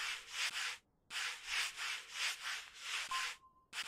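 Wood being sanded in the Workshop Simulator video game, steady rasping strokes in long bursts with a brief pause, fairly quiet and alone with no talking.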